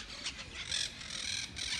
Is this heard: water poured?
no